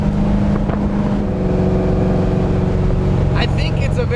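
A 1971 Camaro with a 383 stroker V8 rumbles loud and close in a steady, deep engine drone during a burnout, and a brief voice cuts in near the end.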